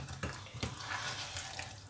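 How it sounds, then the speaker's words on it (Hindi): A small splash of water poured over spinach and potatoes in a frying pan, a brief, quiet gush and sizzle with a couple of soft knocks near the start. "यहाँ पानी थोड़ा सा डाल के मैं रख दूँगी ताकि आलू गल जाए।"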